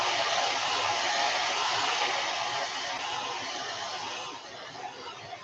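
A hair dryer blows steadily on fresh, fast-drying paint, a close, loud broadband whoosh that holds for several seconds and eases slightly near the end, with no talking over it.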